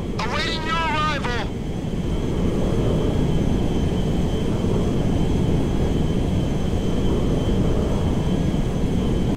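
A big jet airplane in Grand Theft Auto 5 gives a loud, steady roaring engine rumble throughout, with a brief warbling radio-like voice chirp at the start.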